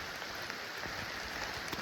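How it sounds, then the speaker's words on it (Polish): Light rain falls steadily outdoors in Bohol, Philippines, making a faint, even hiss with soft scattered patters of drops and no voices. "Deszczyk pada."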